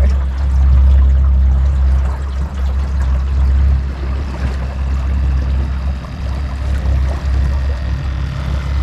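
Water of the Delaware River heard from a fishing boat, a loud, steady rush dominated by deep low rumble with broadband wash, continuous throughout with no talking.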